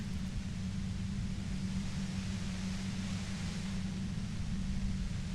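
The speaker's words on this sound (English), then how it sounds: "The violet-white noise becomes even more overwhelming closer to the compressor" Violet-white noise hisses near a compressor in the Disco Elysium video game, a dense, steady, loud wash of broadband static with a low droning hum underneath, continuous and unchanging throughout.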